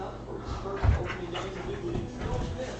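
A dog named Lou whimpers and whines softly in short bursts near a streamer's desk, one louder yelp rising briefly before settling back into low, restless whining.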